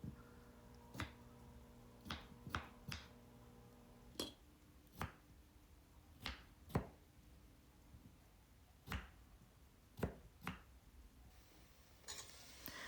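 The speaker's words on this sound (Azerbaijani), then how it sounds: "Kartofu da xırda kubik şəklində doğrayıram." A knife chops potatoes into small cubes on a board, with faint, irregular sharp taps spread across a quiet kitchen over a low steady hum.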